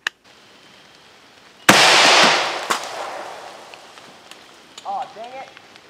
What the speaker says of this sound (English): now we're shooting a starting fluid can with the giant nail